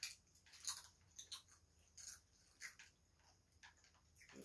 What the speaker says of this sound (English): Sorry if you can hear us munching.